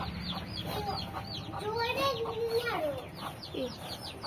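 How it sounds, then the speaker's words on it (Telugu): A hen with her chicks clucks softly at an evening farmyard, giving low murmuring calls and chirps, fairly quiet and close, over a light background with faint children's voices. "ఇక్కడ కోడి అయితే వచ్చింది"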